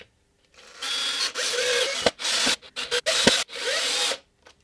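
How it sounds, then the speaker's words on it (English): Power drill driving screws through a guitar plate into wood on a homemade guitar/bass build, several close whirring bursts of varying length broken by short pauses and clicks. "Then we take our drill and we drill them in."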